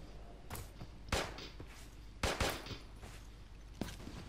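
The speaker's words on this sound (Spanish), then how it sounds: "Vale, disparos. Disparo, es un sniper." Several sharp sniper rifle gunshots in the video game Creative Destruction ring out at irregular intervals, each a crisp crack with a brief tail, over steady low background noise; no talking.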